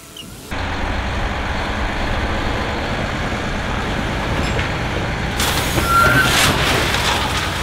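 A heavy gravel delivery truck rumbles in loudly and steadily up a mountain homestead driveway, its deep engine drone continuous, followed near the end by a sharp hissing burst of air brakes.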